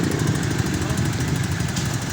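Engine of a Suzuki Smash 115 motorcycle running after timing chain work, a close, steady rumbling exhaust drone that holds at a constant loud level throughout.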